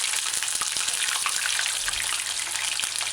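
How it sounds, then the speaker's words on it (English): Steady, dense sizzling of chicken wings deep frying in hot oil, continuous and close, with occasional soft pops and no voices. "chicken wings,"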